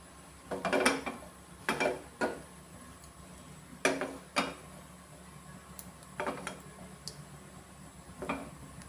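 Cumin seeds fry in a pan while a stuffed paratha dinner is cooked. Sharp, scattered crackles and ticks pop out in small clusters over a quiet kitchen background.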